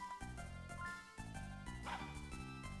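Dogs bark in a video game, a few short bow-wow yips rising over a dense backdrop of game music and effects, moderately loud throughout.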